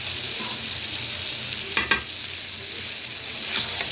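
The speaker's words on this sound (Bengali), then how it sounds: "মশলাটা এভাবে একটু কষিয়ে নেব, তেলে একটু ঢেকে দিব।" Chicken and spices stir-fry in hot oil with a steady sizzle, broken by a few sharp scrapes of a spatula against the pan near the middle and again toward the end.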